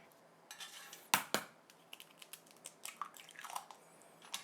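Eggs cracked into a container: two sharp, close taps in quick succession, followed by soft wet drips and light clatter of the container.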